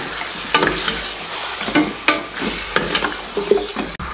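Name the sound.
beef frying in a pot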